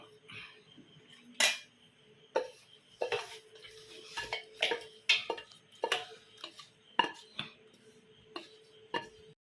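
A spoon stirs a pot of bone and tapioca curry, giving a series of sharp metallic clinks and scrapes at an irregular rhythm, close and distinct over a quiet background.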